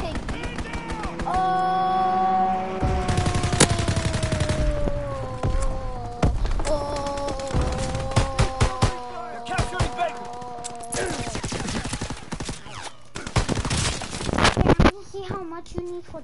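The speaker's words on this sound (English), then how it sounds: "Strafing run inbound." In Call of Duty WWII on the Shipment map, sharp gunfire bursts crack repeatedly amid a droning aircraft tone and announcer-style voices, loud and busy, with scattered shots and thuds toward the end.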